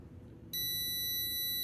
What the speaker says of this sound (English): we should hear that beep again here